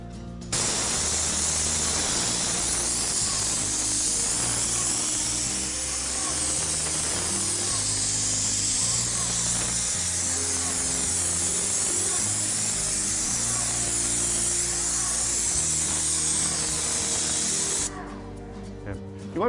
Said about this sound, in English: all I need to do is spray the 30 mil continuous membrane